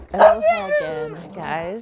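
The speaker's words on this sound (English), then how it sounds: "You can hear the dogs in the background" Dogs bark and whine in the background of a Hawaii home early in the morning, audible beneath a woman's close greeting speech.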